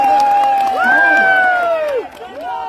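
A large crowd at a Bharat Jodo political rally in Parasia cheers loudly, with rising whoops and shouts blending into a sustained roar.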